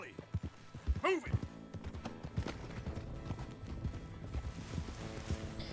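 Horses gallop in Red Dead Redemption 2, a steady drumming of hooves with a whinny early on, heard under a busy game soundtrack and voices.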